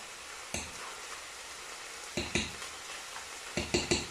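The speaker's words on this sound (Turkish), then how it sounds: "Şimdi kıymamı kavuracağım." Minced meat fries in sunflower oil and butter for tacos, a continuous close sizzle broken by several sharp spatula scrapes and clacks against the pan.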